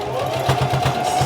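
A sewing machine stitches the pleated seams of a fabric face mask, its motor whirring steadily with a fast, even pulse of needle strokes, close and continuous, with no speech.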